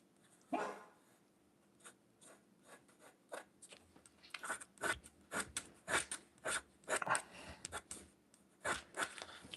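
A dog barks in repeated sharp bursts at close range, scattered through the stretch with short gaps, mixed with light scratching noises like pen or paper handling in a drawing studio.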